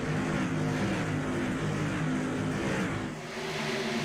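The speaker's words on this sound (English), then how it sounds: "Look at that field of Tour Modifieds going down into turns 3 and 4" A pack of Tour Modified race cars roaring together on the Phoenix oval, a dense layered engine drone heard from a distance that swells and holds, dipping briefly near the end as the field heads into a turn.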